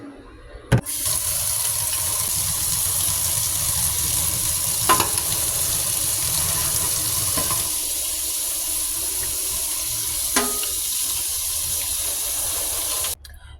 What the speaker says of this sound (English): I'm just gonna use a few dabs of this and some hot running water